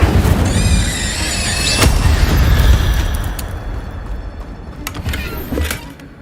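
Incendio fire spell cast in Hogwarts Legacy: a loud whooshing burst with a bright crackling flare near the start, a sharp hit around two seconds in, then rumbling fire that fades under later sharp impacts.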